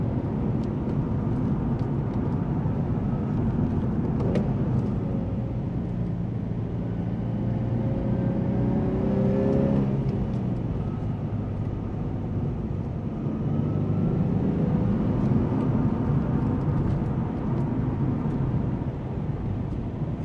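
A 2003 Nissan 350Z Track Edition driven on a country road, engine droning steadily from inside the cabin, revs climbing and dropping with each gear change, loud and continuous with no talking.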